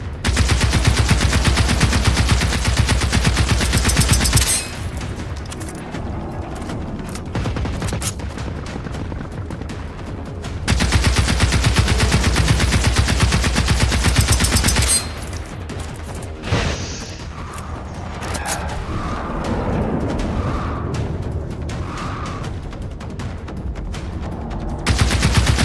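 A robot's machine guns firing in the video game Generation Zero, long sustained bursts of rapid automatic fire broken by quieter pauses with scattered impacts and game ambience.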